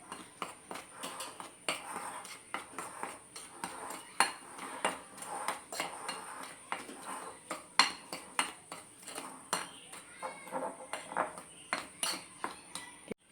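Dry batter ingredients for beguni being mixed in a bowl, with repeated light clinks and taps of a spoon against the bowl in an uneven rhythm, fairly quiet.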